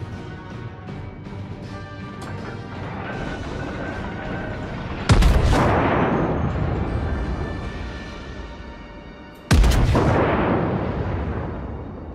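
Two heavy naval gun salvos boom loudly in the World of Warships video game, each a sudden blast followed by a long rolling rumble that slowly decays, spaced several seconds apart over a steady engine and ambient drone.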